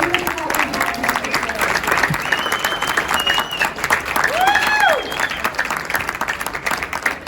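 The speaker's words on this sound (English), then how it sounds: "So maybe one more big round of applause for all of the debaters." Sustained audience applause for youth debaters at the UCP AGM 2024, a dense, steady clapping that fills the room for the whole stretch, with a few whistles rising through it midway.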